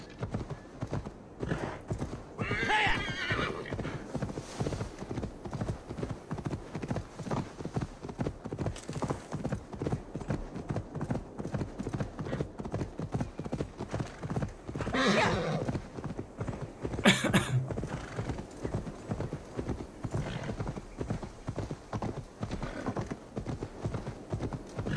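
In Assassin's Creed Valhalla, a horse's hooves beat in a fast, steady galloping rhythm for the whole stretch, broken by a few sharp neighs and whinnies partway through.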